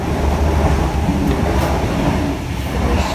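Passenger train running in Newcastle, a loud continuous rumble and rattle from inside the carriage, steady throughout.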